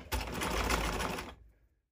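A sewing machine runs an over-the-edge zigzag stitch on boxer shorts fabric, a loud, close buzzing whir lasting just over a second before it stops and fades.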